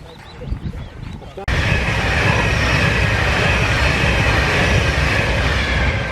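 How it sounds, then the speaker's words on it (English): An Avanti passenger train passes close by on the line near Grayrigg, a sudden loud rush of wheels and rolling stock that cuts in and holds steady, drowning out faint earlier sounds. "We just caught the back end of the Avanti, heading to either Glasgow or Edinburgh"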